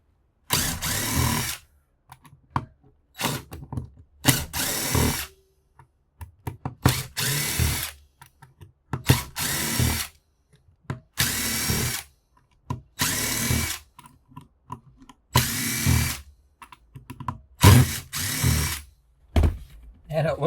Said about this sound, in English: Let's get these screws out of here.